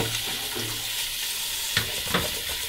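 Noodles soaking in a bowl of water for chow mein get swished and stirred by hand, producing a continuous wet, sloshing hiss with a few sharper splashes, close and steady with no talking.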